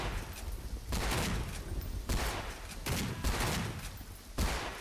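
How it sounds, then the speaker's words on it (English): Gunfire in Garry's Mod as a cop shoots, with rapid bursts of loud, crackling shots in several volleys and brief pauses between them. "Go on, cop. Shoot him."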